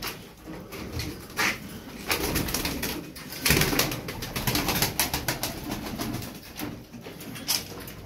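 Several pigeons or doves cooing together in a bird-selling setting, soft repeated coos and rustling with occasional wing flaps, steady and close throughout.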